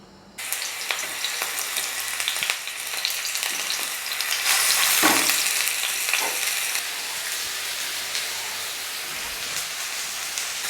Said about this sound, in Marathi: तव्यावरती टोमॅटो भाजून घ्यायचा आहे आपल्याला